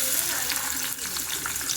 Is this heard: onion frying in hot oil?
yes